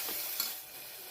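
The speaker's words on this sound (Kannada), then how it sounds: "ಈಗ ಇದು ಟೊಮೆಟೊ ಪ್ಯೂರಿ ಎಲ್ಲ ಫುಲ್ಲು ಫ್ರೈ ಆಗ್ಬೇಕಿದೆ ಎಣ್ಣೆ ಒಳಗೆ" Tomato puree fries in oil for a moment: a brief, steady sizzling hiss up close with a faint stir, fading slightly toward the end.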